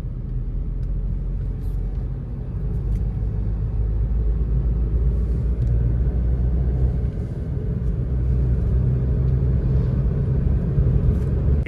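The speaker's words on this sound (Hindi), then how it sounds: "थोड़ी सी गाड़ी को फिर से एक्सेलरेट करते हैं।" A Maruti Ignis accelerates on the road, its engine giving a steady low rumble that swells slightly, heard from inside the cabin with no talking.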